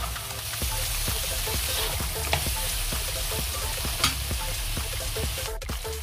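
Cowpeas and dried fish sauté in hot oil, a steady close sizzle broken by regular scraping stirs of a spoon against the pan, with a few sharper clicks along the way.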